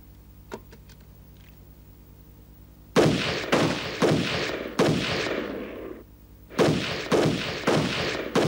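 Gunshots at a shooting contest come after a few seconds of near quiet, about eight loud, echoing reports in two quick volleys, each with a ringing decay.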